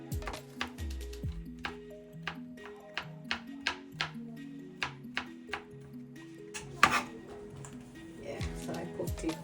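Knife chopping garlic and onion on a cutting board for a curry lobster dish, a series of crisp, evenly spaced taps close up, with a louder knock near the end.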